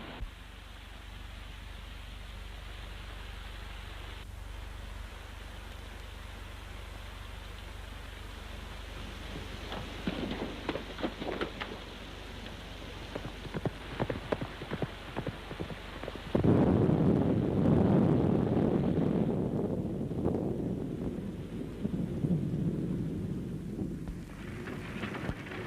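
Stormy wind and rain sweep across an open western plain, a steady noisy wash that surges louder and rougher partway through, with a few rhythmic thumps like hooves in the middle.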